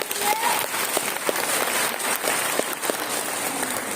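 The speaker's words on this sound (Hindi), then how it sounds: "जोर ताली बजाइए" A church congregation at Cathedral Ambikapur claps in a steady, dense wash of applause, fairly close and continuous, with a faint voice briefly audible beneath it.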